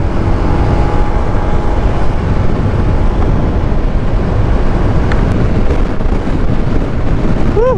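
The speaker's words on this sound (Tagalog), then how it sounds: "Ang lakas ng hangin." Strong wind buffets the microphone in a loud, continuous roar on a Honda PCX 160 motorcycle ride to Bolinao, Pangasinan, with a faint rising tone near the end.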